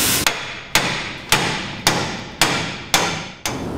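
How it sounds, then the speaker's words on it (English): Hammer and dolly panel beating on a car repair panel: seven sharp, loud metallic strikes at a steady, even pace, each ringing briefly before the next. "it's going to be a hammer and dolly work, and then just work it"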